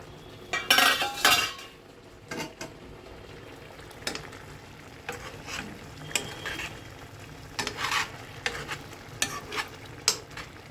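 A spoon stirs petha pieces in thickening sugar syrup in a pot, scraping and clinking against the metal in scattered bursts over a low bubbling simmer, close and fairly loud, with no talk.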